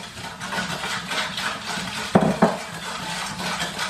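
Rice and peas with browning stirred in a pot, a spoon scraping steadily through the mixture with two sharp clanks against the pot's side midway, no talking.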